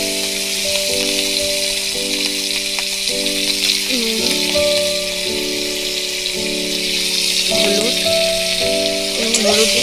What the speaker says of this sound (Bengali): হলুদ দিয়ে চিংড়িটা ভেজে নেব।